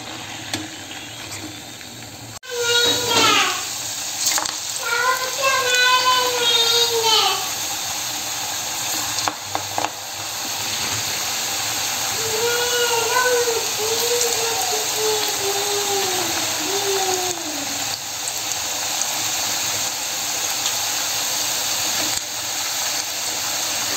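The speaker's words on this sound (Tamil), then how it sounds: "இந்த எண்ணெய் பபுள்ஸ்லாம் வருது இல்லை" Snacks frying in hot oil for Krishna Jayanthi, with a continuous loud sizzle and hiss of bubbling oil throughout. Someone speaks over it in several stretches.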